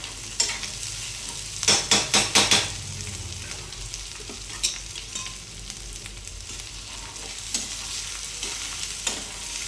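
Cashews and curry leaves sizzle in hot oil, a steady close crackle with a quick burst of four sharp spoon knocks near the start and occasional scrapes later, no voices.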